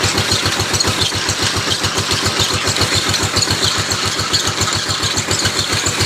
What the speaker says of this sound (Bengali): এই যে মেশিন মেশিনের মধ্যে কিন্তু ধান ঢেলে দিয়েছে